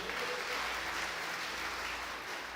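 Church congregation applauding during a worship service, steady dense clapping filling the room throughout, with no pauses and no voices standing out.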